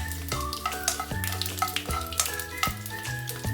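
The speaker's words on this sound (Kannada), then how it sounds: "ಈಗ ಫ್ರೈ ಮಾಡೋಣ." Mustard seeds, fennel and cut wild jackfruit pieces fry in hot oil in a pan: a continuous sizzle with stirring scrapes, heard beneath tuneful background music and no speech.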